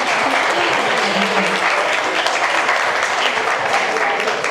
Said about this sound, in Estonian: Aplaus saalist